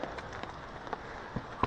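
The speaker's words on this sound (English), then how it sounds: "I'm still under my tarp because it's still raining" Steady rain patters on a camping tarp over a solo hammock camp on a cold backwoods morning, a dense soft hiss with a few louder drops striking close by.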